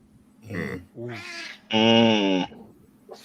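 A cat meows three times close by, short then longer calls with the last drawn out and strongest, followed by a brief faint fourth sound.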